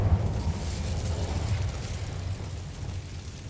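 Incendio fire spell cast in a Harry Potter video game: a broad, roaring whoosh of flame with a low rumbling body, loud at first and slowly fading over a few seconds.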